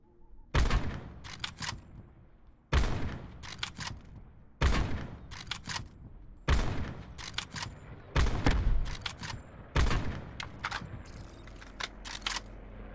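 Call of Duty Blackout gunfire comes in six sharp, loud bursts of rapid shots, each separated by about two seconds of quieter game ambience.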